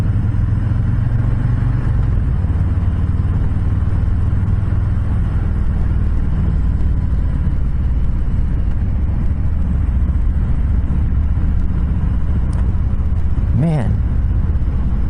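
A 2020 Harley-Davidson Softail Lowrider engine heard while riding on a demo ride, with a loud, steady low rumble and wind roar running throughout and a brief sharp sweep near the end.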